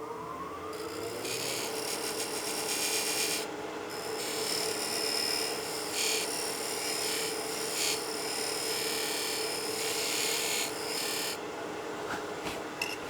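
A lathe cuts a gasket channel into the face of an aluminum pocket case, giving a steady, close grinding rasp with a high metallic whine that swells and eases in several bursts throughout, with no talking.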